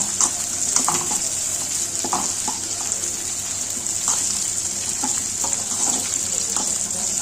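Onions sauté in a pan for a Tamil-style mutton gravy, with a continuous bright hiss and intermittent clinks and scrapes of a stirring spoon, fairly close and loud.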